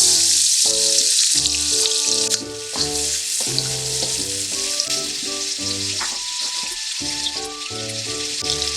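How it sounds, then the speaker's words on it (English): Onion sizzles and crackles steadily in a hot pan, loud and close, with occasional stirring scrapes and no talking. "I'm going to start by frying about half an onion."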